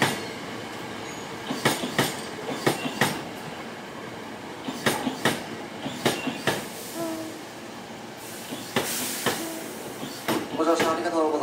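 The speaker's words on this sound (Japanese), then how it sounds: "ただいま4号線に到着の電車は通勤特急大阪線です。" A Hankyu electric commuter express train rolls into Nishinomiya-Kitaguchi station, Japan, with rhythmic clacking of wheels over rail joints and faint squealing, while a Japanese station announcement plays in the background.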